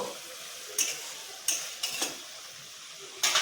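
Bengali mixed-vegetable labra with fried fritters added, bubbling in a pot under a steady hiss, broken by a few sharp clinks of a ladle or spoon against the pot at irregular intervals, close up with no talk.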